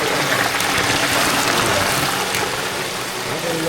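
Water runs steadily into a pot while making chicken lugaw, a continuous loud gushing fill that lasts throughout without pause.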